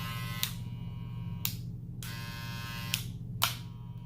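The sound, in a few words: Wahl Senior cordless hair clipper running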